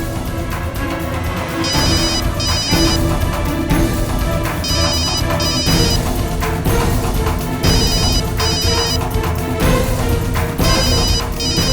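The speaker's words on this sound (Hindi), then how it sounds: "ये अखिलेश के घर फोन कहाँ से बज रहा?" A telephone rings in repeated bursts over loud, steady background music, with no talking.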